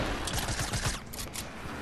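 Dense burst of game gunfire and blasts during a Fortnite match, a rapid volley of sharp cracks crowding together over a steady noisy backdrop, loud and close throughout.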